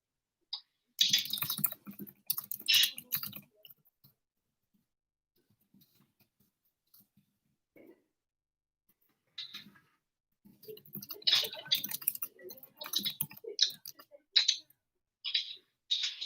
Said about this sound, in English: Her typing is so loud.